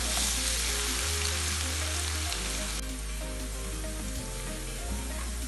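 Onion with garlic and ginger paste fries in hot oil for mash daal, a loud continuous sizzle with occasional stirring and a steady low hum underneath.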